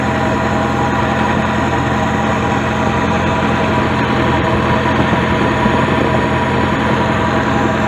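A Nissan 240SX engine idles after a power steering line replacement, a steady, loud, close rumble with an even low drone and no changes in pitch, with no voices.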